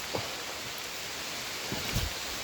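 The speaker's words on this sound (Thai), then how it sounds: "ฝนตก" Rain falls in a forest with a continuous soft hiss, broken by a couple of brief nearby rustles or thumps.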